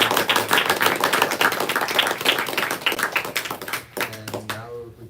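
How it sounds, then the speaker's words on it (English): Audience applause after a spiritual talk in a small Brooklyn room, a modest crowd clapping steadily for several seconds before it thins out and someone begins speaking. "I guess we can all give a round of applause if we appreciated Sri Prahlad Prabhu's talk today."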